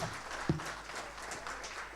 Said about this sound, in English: please give a big round of applause for Sato Business Lounge